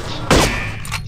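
A single gunshot fired in the video game No One Lives Forever, a sharp loud burst with a short decaying tail, followed by quieter game ambience.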